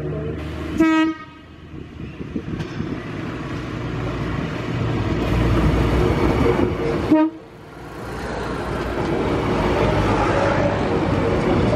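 A train passes on a rail line with a railbus waiting nearby, two loud horn blasts separated by a steady heavy rumble of wheels and cars rolling close by, with faint talk underneath.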